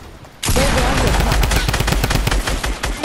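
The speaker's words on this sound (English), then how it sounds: "I'm getting shot at" Gunfire in the Fortnite video game breaks out suddenly after a short quiet moment: loud, rapid bursts of shots stack up in quick succession and stay dense for the rest of the moment.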